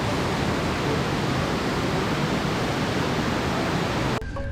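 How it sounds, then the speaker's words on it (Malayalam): The waterfall at Kanthalloor roars as a dense, continuous hiss of falling, splashing water, loud and steady, dropping off abruptly just before the end. "വെള്ളം ഇങ്ങനെ കുപ്പിച്ചില്ല് പോലെ ഇങ്ങനെ പതഞ്ഞ് ചാടുന്നൊരു കാഴ്ച"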